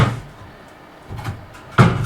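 A newly built kitchen cabinet door in a vintage Boler RV remodel swings open and shuts, with a soft creak early on and two sharper wooden knocks near the end, close and clear with no talking.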